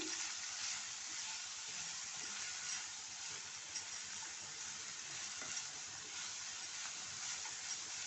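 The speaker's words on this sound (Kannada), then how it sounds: "ಎಲ್ಲ ಬೇಗ ಫ್ರೈ ಆಗ್ತದೆ" Soft, even sizzling of greens frying in a pan, close but quiet, with light crackles and occasional stirring over several seconds.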